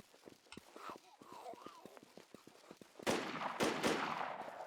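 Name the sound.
gunfire in a video game, coming from the bridge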